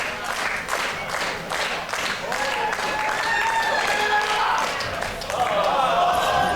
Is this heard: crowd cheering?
yes